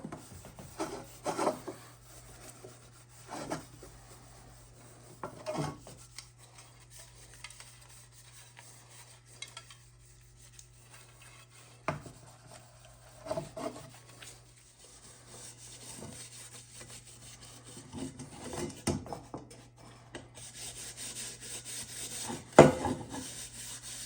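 A lemon is rubbed over heavily tarnished, still-lacquered copper, giving soft intermittent scrubbing and rasping strokes in short bursts separated by quiet pauses, close and fairly faint.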